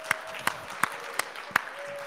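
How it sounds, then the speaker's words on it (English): A handful of scattered claps, roughly five distinct sharp hits spread over two seconds, answer a call for applause at the ClueCon 2021 telecom developer conference, with a faint steady tone running beneath and no crowd noise. "So can we get a round of applause for him?"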